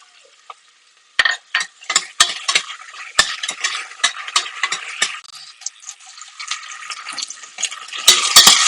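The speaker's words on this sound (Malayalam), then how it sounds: "ഈ സമയം നമ്മൾ അരിഞ്ഞു വെച്ചിരുന്ന ഇഞ്ചിയുടെയും വെളുത്തുള്ളിയുടെയും പീസസ് ഇതിലോട്ട് ഇട്ട് കൊടുക്കുകയാണ്" Chopped ginger and garlic hit a hot pan for a Kerala vegetable kuruma, bursting into loud sizzling and frying after a brief quiet start, with spoon scraping and stirring clatter throughout.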